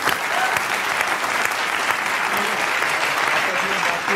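A live audience at a Hindi poets' gathering applauds a poet, with dense, steady clapping that fills the whole moment at an even loudness.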